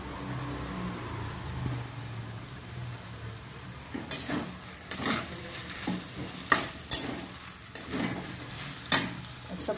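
Chow mein with tomato sauce, chili sauce and salt being tossed in a pan: a low sizzle, then a series of sharp scrapes and knocks from the stirring spoon at an uneven pace, close by.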